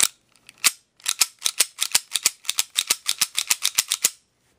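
A Taurus PT99 CO2 blowback airsoft pistol is cocked and fired in a quick run of sharp snapping clicks, close and crisp, coming in an uneven rhythm of about twenty reports before stopping.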